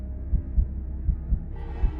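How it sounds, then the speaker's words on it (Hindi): Heartbeat sound effect in a horror audio story, a slow steady double-thump pulse repeating about three times, low and muffled over a faint hum. "अचानक मेरे दिल की धड़कन थोड़ी तेज होने लगी"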